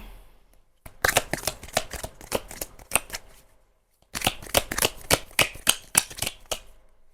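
A deck of tea leaf oracle cards is shuffled in two bursts of rapid riffling flicks, close and crisp, separated by a brief pause, with no voices.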